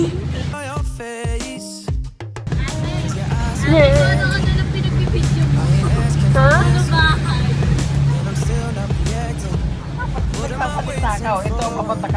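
A jeep ride in the Philippines, with a steady low engine rumble under several voices chattering and talking throughout, after a brief burst of clatter at the start.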